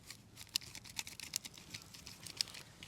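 Pruning shears snip through a perennial stem while taking a spring cutting, several small, crisp clicks spaced over a few seconds, close and faint against a quiet outdoor background.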